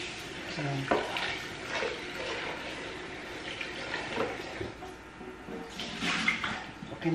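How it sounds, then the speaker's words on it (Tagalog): Cleaning water runs out of a coffee machine in a home kitchen, a soft continuous trickle and splash with a few clinks, at moderate distance with voices briefly speaking over it. "Sa coffee machine yung paglinis. Yung tubig na umaalis."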